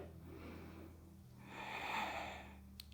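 A slow, soft exhale during a pelvic floor yoga exercise on a mat, a faint breathy rush that swells and fades near the end of a quiet stretch, close but low in level, with no speech.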